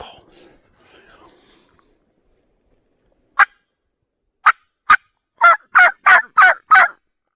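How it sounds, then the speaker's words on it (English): Wild turkeys gobble from some distance during a California turkey hunt, a series of sharp rattling calls that comes faster toward the end, after a quiet stretch with a faint murmur at the start. "Some turkeys gobbling."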